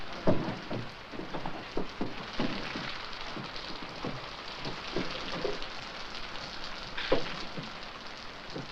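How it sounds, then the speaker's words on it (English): Steady rain pattering on a surface, with scattered louder drops and taps over a constant hiss. "Mama, rain started raining"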